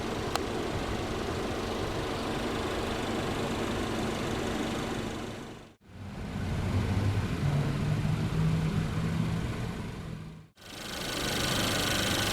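A 2017 Ford Fusion Titanium's 2.0 L turbocharged EcoBoost inline four-cylinder runs steadily at idle, a low, even hum that briefly fades out twice.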